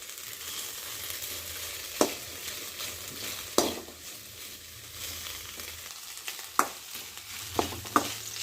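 Sliced onions and green chillies fry in a pan with a continuous, close sizzle, punctuated by several sharp metallic clicks and scrapes of a spatula stirring against the pan, with no voices.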